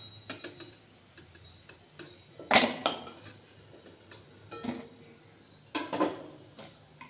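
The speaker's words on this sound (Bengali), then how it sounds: "ভাজা হয়ে গেছে, আওয়াজটা শুনবেন বন্ধুরা কতটা ক্রিপসি হয়েছে" Crispy fried maan kochu (giant taro) fritters being bitten and crunched, a few sharp separate crunches spaced through a quiet stretch, one loud close crackle standing out among fainter ones.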